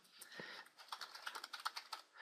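A password is typed on a computer keyboard in a quick, uneven run of soft key taps, close and fairly quiet, with no voice over it.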